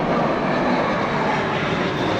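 An airplane passes overhead near an airport, a loud, steady, broad engine roar with no pauses and no speech.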